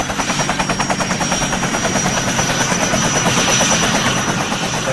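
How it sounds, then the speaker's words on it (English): Steady, loud helicopter rotor chop with rapid rhythmic thumping and a constant high whine, continuous throughout. "We heard the helicopter."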